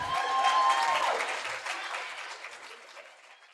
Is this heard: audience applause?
yes